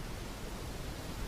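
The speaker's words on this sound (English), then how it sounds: "It's a waterfall!" A roaring waterfall on a virtual safari boat ride pours as a dense, steady rush of noise, loud and unbroken, with no voices.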